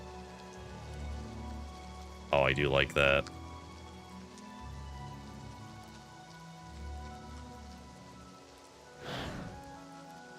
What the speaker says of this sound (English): I do like how the rain looks.